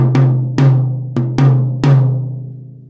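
Middle tom of an acoustic drum set, tuned quite high and left unmuffled, hit five times in a loose rhythm, each stroke sounding a bright pitched thump with a ringing tail, close up with no other sound.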